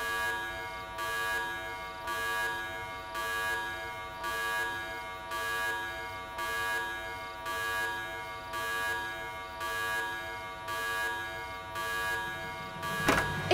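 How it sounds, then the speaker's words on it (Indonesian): Alarm going off indoors in a steady repeating pattern, a buzzing electronic beep pulsing about once every second with no voices, ending in a short rustle. "Alarm EJ sudah berbunyi"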